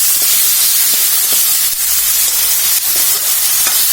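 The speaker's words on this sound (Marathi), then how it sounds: "आधी कांदा परतून घ्यायचा थोडासा, 1 अर्धा मिनिट" Onion sautéing in a pan for sambhar gives a steady, fairly loud hiss and sizzle with a few faint scrapes of stirring, and no voices.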